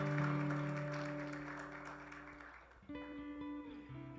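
A church congregation applauds in a dense wash of clapping that slowly fades over a few seconds, while sustained keyboard chords ring underneath and carry on after the clapping dies away.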